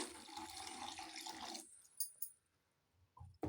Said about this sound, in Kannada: ಮತ್ತೆ ಇನ್ನೊಂದು ಸ್ವಲ್ಪ ನೀರು ಹಾಕ್ತಾ ಇದ್ದೀನಿ ನಾನು